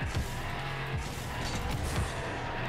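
A Bugatti Centodieci in Rocket League drives with a steady, loud engine roar, and its pitch rises and drops several times as the car revs and shifts during the game.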